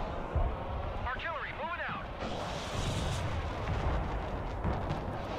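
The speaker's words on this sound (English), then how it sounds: "Oh, artillery's coming in." Artillery barrages landing in the Broken Arrow strategy game, deep rumbling booms and bursts with whistling incoming shells early on, continuous and heavy, while a person talks over the action.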